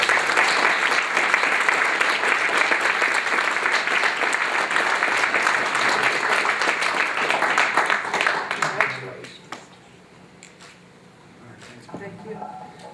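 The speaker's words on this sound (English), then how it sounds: "Big round of applause, please." Audience at a university celebration event applauding enthusiastically, dense clapping for about nine seconds before dying away into quieter room noise, with speech following.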